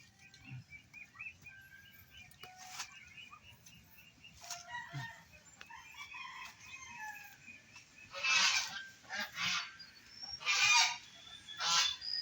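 Ducks on a free-range poultry farm let out faint, scattered honking calls in irregular bursts, growing louder and more frequent toward the end.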